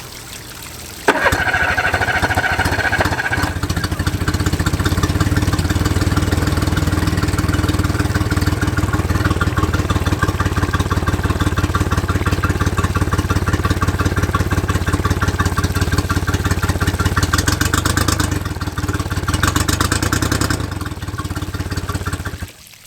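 A Honda 50 outboard motor runs steadily at idle for a sustained stretch, a loud close mechanical drone with a watery trickle of cooling water mixed in, a sharp onset near the start and tapering at the end.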